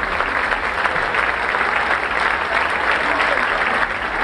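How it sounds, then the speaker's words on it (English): Sustained applause from Fort Kent and Madawaska fans at a 1996 high school game, steady and fairly loud, filling the space without a break. "Gets a nice round of applause from the Fort Kent and Madawaska fans here."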